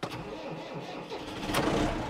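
Dad's 695 tractor engine cranking from cold with no heat or extra fuel, a short churning start that builds to a louder rough roar near the end.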